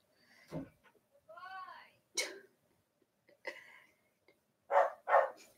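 A dog gives a few short barks and yips at a distance, scattered between pauses, while a person speaks quietly nearby.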